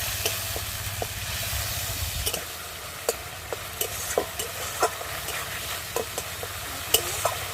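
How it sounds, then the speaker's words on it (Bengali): A paste of ginger, cumin and coriander sizzles in a pan with a splash of water, crackling steadily as a utensil stirs and scrapes it in repeated soft knocks, close and fairly quiet. "দিয়ে সামান্য একটু জল দিয়ে দেবো, দিয়ে ভালো করে মশলাটা ভেজে নেব।"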